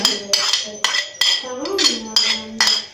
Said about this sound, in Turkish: Malzemelerimi karıştırıyorum artık.